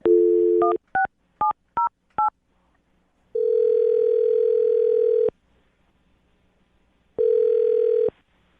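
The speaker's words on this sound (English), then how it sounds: "I'm going to dial her phone number right now." A telephone dial tone, then a quick series of touch-tone beeps as a number is keyed, followed by two long ringback tones with a pause between.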